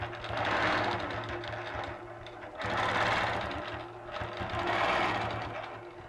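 A sewing machine quilts the top half of a star pattern using star templates, its steady mechanical whir running in three long continuous bursts separated by brief pauses.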